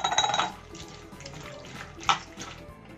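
Cut mango pieces being rinsed under running water in a kitchen, a steady splashing wash with a louder burst at the start and a brief clatter near the end, with no talking.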